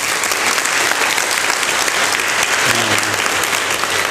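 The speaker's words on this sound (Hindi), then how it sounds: "एक बार आप लोग है ना ज़बरदस्त तालियां बजाएं जोरदार सी।" A seminar audience breaks into loud, sustained applause, dense clapping filling the hall throughout with a brief voice rising beneath it.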